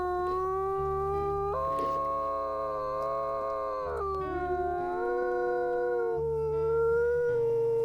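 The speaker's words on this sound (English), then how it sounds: "we should do a double howl" Wolves in the video game WolfQuest raise a sustained, layered group howl, several voices sliding and overlapping in long rising and falling tones that carry steadily through the whole stretch with no talk.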